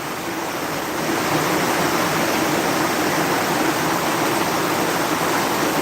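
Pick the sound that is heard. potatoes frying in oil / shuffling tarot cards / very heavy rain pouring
very heavy rain pouring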